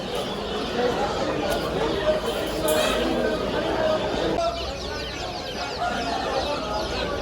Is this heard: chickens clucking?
yes